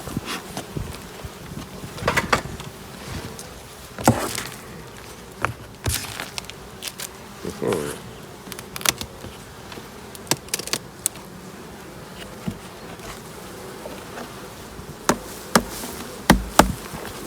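Honeybees drone steadily in an opened Mini Plus hive fitted with supers on a sunny late-February day, with scattered knocks and clicks from handling the hive over the buzzing.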